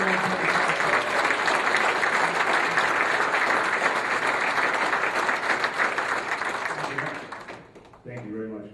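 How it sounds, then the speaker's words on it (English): Sustained applause from a town hall meeting audience at a Second Amendment event in Idaho, dense steady clapping filling the room for about seven seconds before fading out, then a brief different sound at the end. "Big round of applause here at 580 KIDO for our great friend Tony Snesko"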